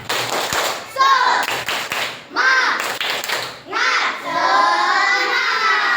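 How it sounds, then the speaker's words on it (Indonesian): A primary-school class chants tepuk semangat together, children's voices rising and falling in sung phrases broken by bursts of unison hand claps, loud and close in a classroom. "ayo kita tepuk semangat dulu, yuk"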